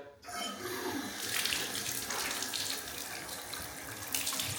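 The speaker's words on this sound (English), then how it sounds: "There is hot water in the bath. Can I turn it on and try it, Lewis?" Hot water pours from a bath tap into a tub in a house under renovation, a steady close splashing rush that starts abruptly and continues throughout without speech.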